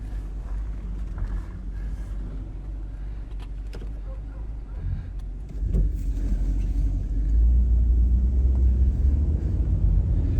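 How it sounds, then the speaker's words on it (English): A Chevrolet Camaro SS RS convertible pulls away, its low engine rumble and road noise steady at first, then swelling louder about halfway through as the car gets moving, close by with no talking. "I think we need to go for a drive now"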